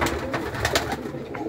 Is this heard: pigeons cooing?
yes